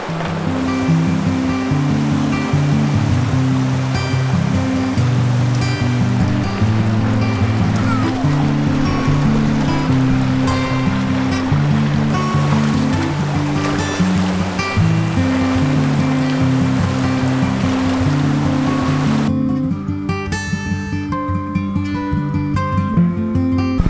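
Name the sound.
river water flowing in the Narrows, Zion National Park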